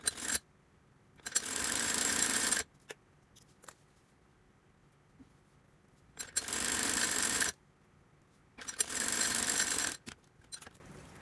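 A sewing machine stitches a child's salwar in three close, even bursts of rapid mechanical whirring, each about a second or two long, with quiet pauses between them.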